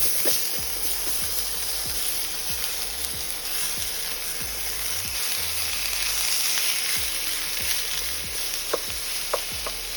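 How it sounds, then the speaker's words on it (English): Onions, red pepper, jalapeno and roasted poblano chilies saute in hot oil, a continuous close sizzle broken by regular scraping strokes of a spoon against the pan, with a few sharper clicks near the end. "We're going to saute off some onions, red pepper, jalapeno pepper, and then the poblano chilies that we roasted off."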